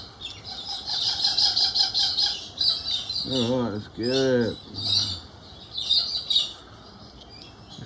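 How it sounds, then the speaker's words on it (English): Cockatoos squawk in a suburban neighbourhood with harsh, raucous calls and bursts of screeching, moderately near, while a person talks briefly over the din. "They get very, very roisterous, all the birds and the hawks"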